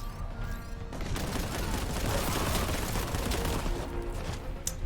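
Grenades exploding in the shooter Boltgun, a dense rolling barrage of blasts and rapid gunfire filling the whole stretch, loud and close with no voices.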